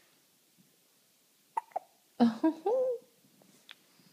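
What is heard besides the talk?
baby hiccups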